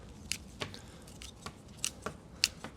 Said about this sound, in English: you have to be prepared to cut to make bonsai